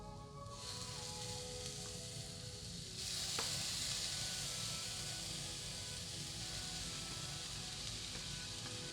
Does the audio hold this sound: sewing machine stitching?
no